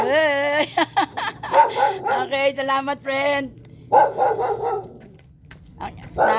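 A dog barks and yips several times up close, high and insistent, mixed with a person speaking briefly over it.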